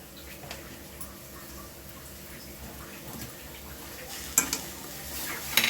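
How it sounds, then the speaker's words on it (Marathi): Spring onion, chili and salt are stirred and sautéed in a pan, giving a soft, steady sizzle with occasional light scrapes and clinks of the utensil, quiet and close. "आता हे चांगलं परतून घ्यायचं"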